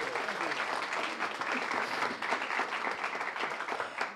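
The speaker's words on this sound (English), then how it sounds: "Round of applause, please." An audience at the 2017 National Teach Ag Day live event applauds for a few seconds, a soft, continuous patter of many hands clapping, heard at moderate distance with no talk over it.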